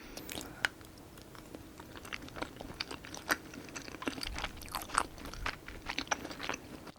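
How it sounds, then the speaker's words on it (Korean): Someone eats tteokbokki, spicy Korean rice cakes from a Busan-style cooking kit, with close, wet chewing and soft squishy bites repeating steadily and no talk over them. "그럼 이제 진짜 주인공인 떡볶이를 한번 먹어보겠습니다"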